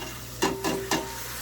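Beans tipped into a sauteing pan of pasta fagioli base, giving three distinct soft thumps and stirring scrapes over a steady low sizzle, with no talking.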